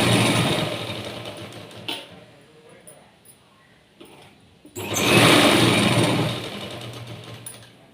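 A sewing machine stitches a sleeve in short bursts of whirring motor, with a loud run at the start, a quieter gap with scattered clicks, then another strong run near the end.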